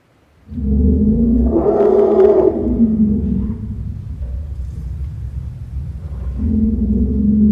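Elephants give deep, loud rumbling calls at a birth, with a rough, roaring rise in the middle, sustained for several seconds, then a second low rumble at the end.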